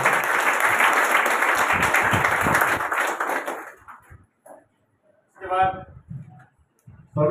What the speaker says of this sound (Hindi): आपका स्वागत तालियों से एक बार और किया जाएगा।